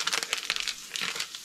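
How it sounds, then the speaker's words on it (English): A knife cuts through a block of crumbly cheese in a home kitchen, giving close, quiet crunchy crackles in a short uneven burst, with no talking. "Literally just gonna cut cheese"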